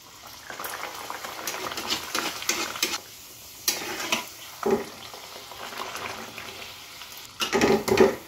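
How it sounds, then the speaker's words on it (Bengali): A green-pea puri frying in hot oil in a wok, a close bubbling sizzle that swells and fades with occasional louder surges of spattering. "দেখুন আমার তেল গরম হয়ে গেছে, এখন আমি পুরিটা দিলাম।"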